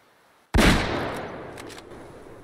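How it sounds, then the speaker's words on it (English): One loud, close rifle shot fired at a black bear in the hunting video game Way of the Hunter cracks out of near silence, then rolls into a long, fading echo. "I think that was a good shot."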